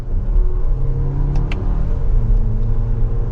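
A 2024 Toyota Grand Highlander 4WD Platinum accelerates with a loud, steady engine rumble and rising drone heard from close by, with a couple of brief high clicks partway through.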